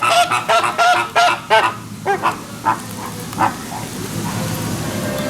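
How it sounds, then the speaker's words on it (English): A Nene goose at Busch Gardens Tampa honks in a quick rhythmic series of loud, nasal calls close by, tapering off into a steady outdoor background murmur. "There's also the friendly Nene Goose."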